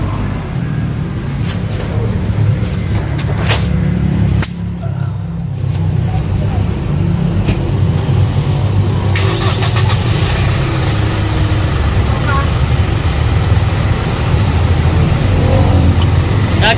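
A Hyundai H100 2021 van engine cranks and starts, then settles into a close, steady idle, with people talking over it and occasional clatter nearby.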